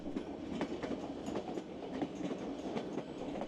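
White Pass and Yukon Railroad train rolling along the rails in Alaska, a steady rumble with rhythmic clickety-clack wheel beats, close and continuous throughout.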